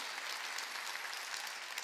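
Applause from a church congregation during a Korean sermon, a steady wash of many hands clapping at once, fairly faint and continuous throughout with no voices over it.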